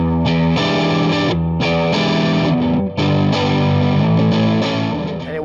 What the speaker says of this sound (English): Crunching still on channel 1 of the Mesa Boogie Mark V.